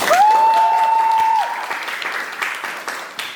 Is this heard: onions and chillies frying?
no